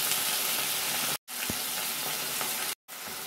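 Onion, garlic and ginger paste with tomato and turmeric fry in hot oil, giving a loud, steady close-up sizzle broken by two brief silent gaps, with a few faint stirring knocks.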